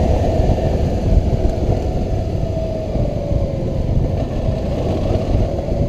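A motorcycle engine runs hard under a twisted throttle, giving a steady, loud, low drone with wind rush that holds without clear rises or falls.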